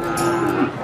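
A Simmental cross cow gives a single close, loud moo, a low drawn-out bellow that holds steady for just under a second.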